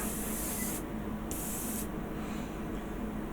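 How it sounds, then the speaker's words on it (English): Airbrush or spray can misting light coats of paint onto a Mobius Models USS Franklin kit, two short close hissing bursts, with a steady low background hum and no voices. "I'm going to just put a few light coats on it"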